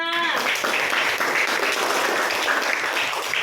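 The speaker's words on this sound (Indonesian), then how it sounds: "silakan duduk, tepuk tangannya" A school class claps for a student who has just returned to her seat, a continuous even patter of many hands at moderate distance with a brief voice at the very start.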